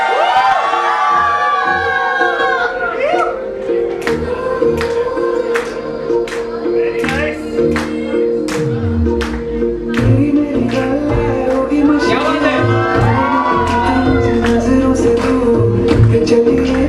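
Children at a Sangeet Sandhya evening celebration shout and cheer loudly in a crowd, sustained excited voices rising and falling, with sharp claps or beats and whoops running through.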